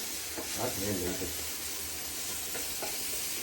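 Food fries in hot oil while being stirred, a dense continuous sizzle close by with a few soft scraping strokes.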